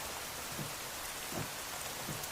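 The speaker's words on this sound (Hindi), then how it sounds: "बारिश भी होने लगी" Steady rain pours down in a dense, even hiss, fairly close, with a few soft low thumps recurring under it and no voices.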